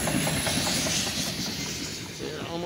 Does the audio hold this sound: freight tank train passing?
yes